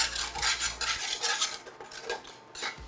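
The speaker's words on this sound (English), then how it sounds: "I'm just gonna use a spatula to scrape some of the brown stuff from searing the the meatballs." A spatula scrapes browned bits from searing meatballs off the bottom of a skillet, giving a series of rough, rasping metallic strokes in a loose rhythm; close-up and moderately quiet, with no talking.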